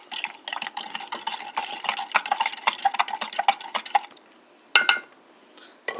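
A spoon stirs Nestea iced tea mix into water, giving a quick run of light clinks and swishing knocks against the container, followed by a couple of louder taps near the end.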